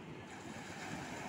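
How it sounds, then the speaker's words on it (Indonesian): Waves roar and wash onto a Java Sea beach in a steady rush while the surf runs somewhat high, with wind noise across the microphone and no talking. "Kedengaran ombaknya berderu."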